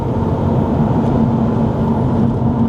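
A 2012 Subaru Impreza WRX STI A-Line with paddle-shift automatic pulls in second gear, a loud, steady engine drone with a low rumble heard from inside the cabin, no talk.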